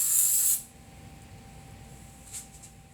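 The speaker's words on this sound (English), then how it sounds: "First, we're going to spray the foam." Spray adhesive hisses onto foam in one loud, close burst of about half a second, then stops, leaving only quiet room background.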